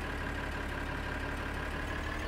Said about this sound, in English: I'll take this trailer and tractor over to the fields and get them ready